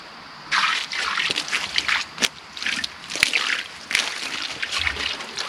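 Water splashes in irregular bursts onto a figured black walnut wood surface, a series of close sloshing splashes separated by short pauses.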